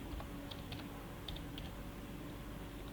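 Someone types a label on a computer keyboard, producing faint, scattered keystroke clicks over a steady low room hum.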